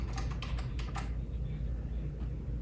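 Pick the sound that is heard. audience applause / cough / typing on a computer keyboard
typing on a computer keyboard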